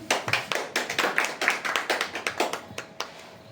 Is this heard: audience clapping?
yes